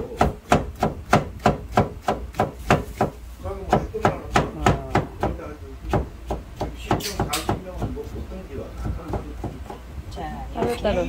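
Rapid knife chopping on a cutting board while preparing ingredients such as garlic and zucchini for janchi guksu, Korean banquet noodles, in a home kitchen. The sharp, rhythmic strikes continue throughout as people talk over them.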